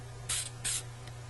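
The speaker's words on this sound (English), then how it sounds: "We're going to spray paint a little bit of paint, boat colors on the side, and then just smear it on the boat." Spray paint can gives two short, sharp hissing bursts in quick succession, followed by a fainter third puff.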